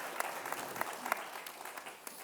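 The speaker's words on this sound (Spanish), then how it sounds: "Podíais aplaudir." Light, scattered clapping from a conference audience at a mentoring congress, fairly faint and distant, a few sharper claps standing out over a short burst.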